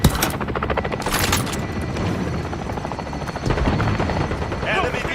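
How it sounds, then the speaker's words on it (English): An enemy VTOL aircraft flies through a military video game battle, its steady rotor-like drone running throughout beneath bursts of gunfire and explosions, while a player talks over the mix. "Enemy VTOL in the AO."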